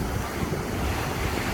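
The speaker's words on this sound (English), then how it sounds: "But the waves, absolutely brilliant." Sea waves wash onto a beach at Marmari on Kos, a loud continuous surf roar with wind buffeting the microphone and no voices.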